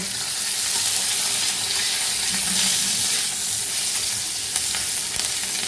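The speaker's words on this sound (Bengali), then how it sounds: "এবার লঙ্কাগুলো দিয়ে দিলাম লঙ্কাগুলো একটু ভাজা ভাজা হবে" Steady loud sizzling of chillies frying in hot oil, a continuous crackling hiss throughout with no talking.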